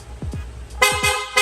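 A loud PIAA horn on a Honda Click V3 motorcycle blasts in short bursts, two brief toots followed by a longer blare, with low thumps beneath.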